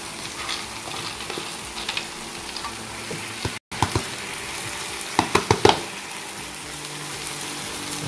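Papaya flowers and lead tree beans stir-frying in a hot pan give a steady close sizzle throughout, with a cluster of scraping stirs and clatters partway through and one brief cut to silence.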